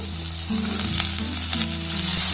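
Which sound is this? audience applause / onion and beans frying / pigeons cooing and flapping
onion and beans frying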